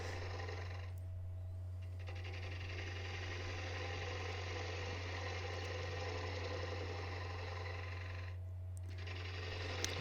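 A wood lathe turns a big natural-edge elm bowl while a tenon is cut, giving a steady motor hum and a constant scraping cutting noise that eases briefly near the start and end.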